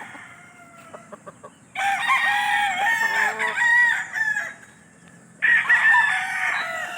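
Tied two-month-old gamecocks crowing loudly and close by in two long bursts, with soft clucks and scattered calls between them.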